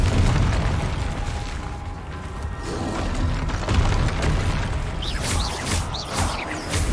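The Confringo fire spell explodes in Hogwarts Legacy combat with deep, rolling booms and bursts, a dense continuous roar of blasts and debris, loud and full throughout, with sharper crackling pops near the end.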